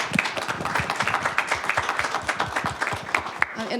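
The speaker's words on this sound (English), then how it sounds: "I really want to give our student panelists a round of applause." Applause for student panelists at a university webcast event on administrative holds at MSU Denver, a steady round of clapping from a modest crowd with some voices underneath.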